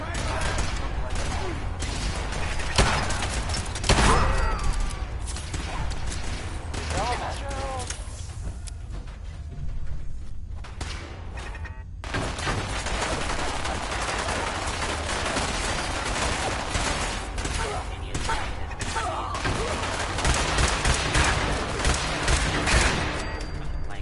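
Rapid gunfire bursts in the Fallout 4 video game, repeated volleys of shots with a brief lull midway, mixed with footsteps and game sounds, while voices speak at times.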